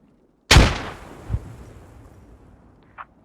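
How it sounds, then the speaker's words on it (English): A single sharp grenade blast in the Squad military shooter video game cracks out of silence and rolls off into a fading rumble, followed by a smaller thud and a faint distant pop. "there goes the grenades. Ooh, that's a lot of grenades."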